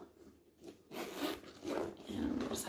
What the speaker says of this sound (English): You've got the zipper pull tab opening, so I'll open that up so you can have a look.